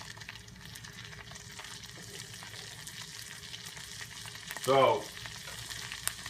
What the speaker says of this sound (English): So to that butter, I'm going to take 1 clove of garlic that I've minced up.